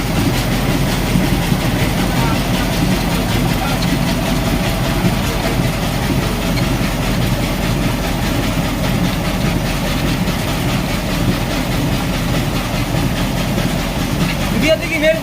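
Machine making chira (flattened rice) from paddy running steadily, a loud continuous low mechanical rumble with rhythmic clattering throughout, while people talk nearby.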